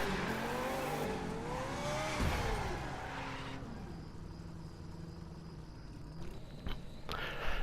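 A car drifting on a dark road as the driver feathers the throttle and taps the brake, the engine note rising and falling with tire squeal, then shifting to a steadier rumble and faint road noise.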